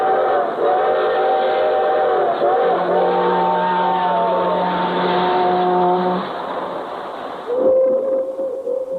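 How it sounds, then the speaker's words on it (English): Freight train whistles blowing in long sustained chords, loud and fairly close, with a brief pause and a second shorter blast at the end, no talk over them. "Hear 'em, the whistles of the freight trains?"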